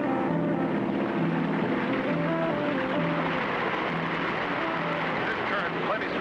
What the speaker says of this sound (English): We'll keep the engine running to force us against the current